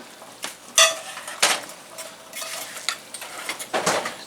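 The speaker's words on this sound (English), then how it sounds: "And then I'm going to stir this up again." A spoon stirs fresh Jamaican callaloo in a cooking pot, giving a few scraping clinks and rustles at close range, irregular and moderately loud, with no voices.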